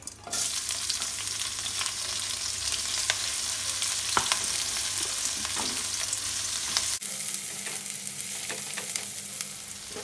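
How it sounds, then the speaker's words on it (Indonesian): Garlic, shallots and chili sautéing in hot oil, a constant loud sizzle with occasional scrapes and taps of a spatula stirring the pan. "tumis bawang putih, bawang merah, dan cabai."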